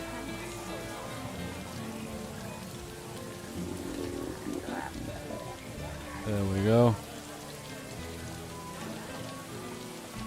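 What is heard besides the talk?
light rain sound effect played from a web soundboard tool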